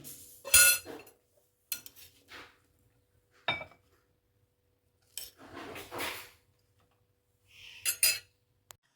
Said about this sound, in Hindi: चलिए इसे हम डिश आउट करेंगे।